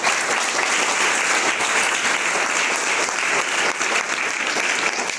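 Loud, sustained applause from students in a school classroom fills the room, steady and dense clapping with no pauses.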